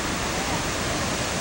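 Waterfall in front of a Las Vegas hotel on Las Vegas Boulevard, a steady broad rush of falling water filling the whole moment, loud and continuous.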